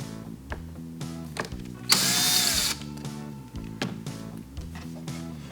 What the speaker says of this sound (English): First thing is you'll want to remove one screw at a time and attach the bicycle chain.